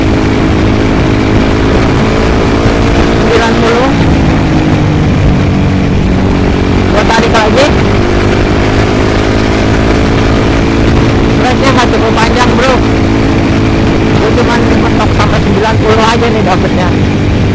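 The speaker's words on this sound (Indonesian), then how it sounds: "Di sini gua tarik gas." A motorcycle engine pulls harder as the throttle opens, going from about 48 to 80 km/h, a loud continuous drone smeared with wind roar, with brief rising whines in places.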